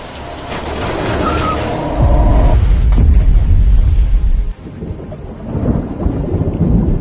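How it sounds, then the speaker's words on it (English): Heavy rain hammering a car windshield in a storm, a loud steady roar with deep rumbling, strongest in the middle before easing off. "Rain hammered the windshield"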